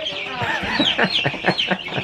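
Young layer and meat chicks chirp and peep in a dense, overlapping chorus, close and fairly loud, with rapid high calls running continuously and no talk.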